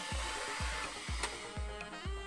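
A Bambu 3D printer heats its hotend to unload filament, giving a steady fan-like whir punctuated by regular low thumps about twice a second and a couple of brief sharp ticks, with no talking.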